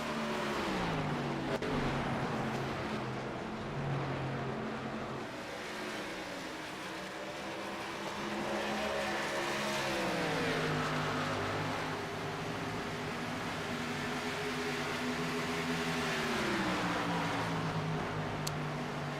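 Race cars lapping at Homestead Miami during a championship night finale, several engines droning steadily and close with rising and falling pitch as they work through lap traffic, continuous and loud throughout.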